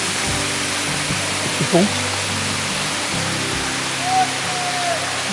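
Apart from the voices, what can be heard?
Riou waterfall at Moustiers-Sainte-Marie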